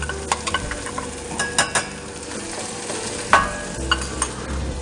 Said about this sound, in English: we're going to get that nice sizzle from our onions